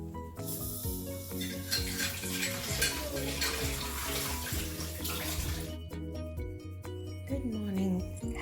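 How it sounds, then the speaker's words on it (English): Tap water runs steadily and loudly into a sink while dishes are washed by hand, with background music playing underneath throughout. "It's important to protect your hands, so let's wash the dishes."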